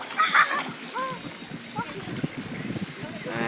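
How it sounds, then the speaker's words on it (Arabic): Children splashing and swimming in cold spring water below a waterfall, with bursts of splashes and kids' voices shouting over flowing water and someone speaking nearby. "الماء وليدات كيعوموا"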